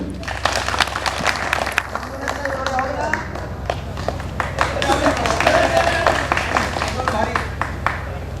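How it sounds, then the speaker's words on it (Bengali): A crowd at an outdoor picnic in a park in Savar, Dhaka claps for three helpers, a steady run of many hands clapping together close by, with voices talking over it throughout. "এই তিনজনের জন্য একটা করতালি"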